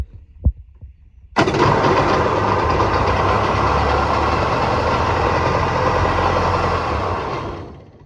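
A Polaris jet ski engine cranks and catches at once, then settles into a steady, loud idle that runs on before cutting out near the end.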